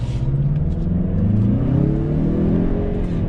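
A 2021 Mazda CX-30 turbo engine pulls hard under acceleration, a loud, close rumble whose pitch climbs steadily as the revs rise, with no talking over it.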